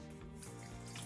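About 300 grams of water pours steadily into a mixing bowl of flour and salt for a 100% hydration Spanish glass-bread dough, a brief soft, continuous splashing stream heard close and quiet.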